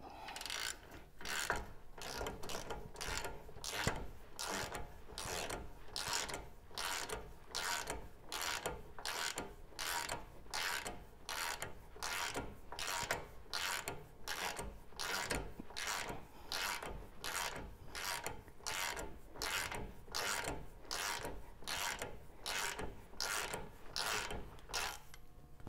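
Ratchet wrench snugging up a ball joint nut on a 100 Series Land Cruiser during CV axle replacement, a long run of even, rapid clicking strokes, close and steady throughout.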